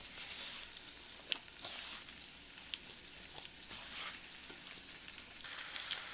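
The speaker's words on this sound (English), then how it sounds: "And then you're gonna add them right into your slow cooker with that nice hot lard." Seasoned meat pieces fry in hot lard inside a slow cooker, a faint, steady sizzle with soft crackles and a few sharper pops scattered across the stretch, heard alone without voices.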